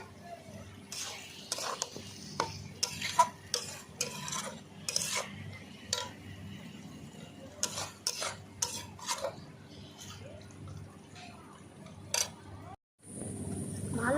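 Vinegar-marinated chicken for vindaloo is stir-fried with ground spices, a quiet bed of sizzling under repeated close scrapes and clinks of a spatula against the pan, with a short pause before the sizzling returns.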